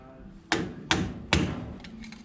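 A hammer striking the lock nut washer tab on a Dana 25/27 Jeep axle knuckle, three sharp metallic taps about half a second apart, close and loud, followed by faint lighter ticks.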